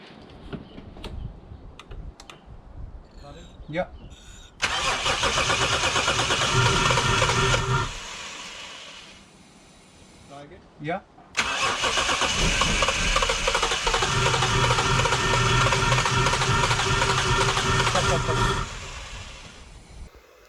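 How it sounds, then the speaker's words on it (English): A Toyota 1JZ/2JZ engine cranks over in two long bursts of steady starter whirring that tries to catch without firing, loud and close, with clicks and a muffled voice in the quieter gaps between. "So as you heard there, the engine is trying to start"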